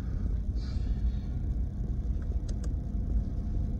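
A car drives down a residential block on an evening after a winter storm, heard from inside as a steady low engine and road rumble, with faint small clicks and rattles.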